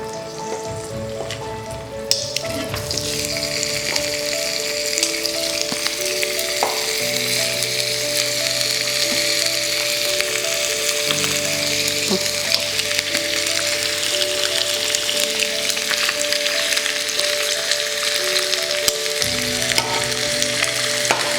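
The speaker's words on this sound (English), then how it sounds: "let's put the chicken into the pan very carefully from the edge of the pan" Chicken for Korean jjimdak hits a hot pan, setting off a loud, steady sizzle that swells after the first couple of seconds and holds for a long stretch, close up with faint crackles and no voices.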